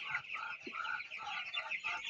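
A flock of broiler chickens clucks and murmurs continuously, a dense, fairly quiet chorus of overlapping calls with no talking.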